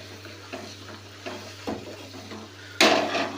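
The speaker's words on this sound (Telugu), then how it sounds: "కొత్తిమీర వేసుకొని ఈ విధంగా బాగా కలుపుకొని" A spoon stirs tomato curry with freshly chopped coriander in a pan, making several scraping clinks against the metal over a low simmering sizzle, ending in one louder clatter.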